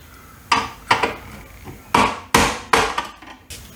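A metal knockout is hammered out of a breaker panel, giving seven sharp, ringing metallic knocks in an uneven sequence, close and fairly loud with brief pauses between strikes.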